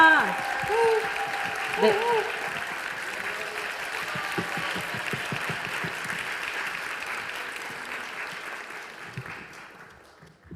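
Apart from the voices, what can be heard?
audience applause welcoming a speaker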